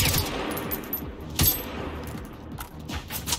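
Video game weapon fire in bursts of rapid shots with brief pauses, moderately loud and close, with a sharper crack around the middle and metallic clinks between volleys.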